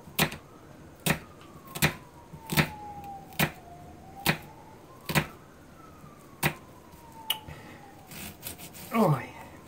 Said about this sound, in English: Yes, first siren for the night.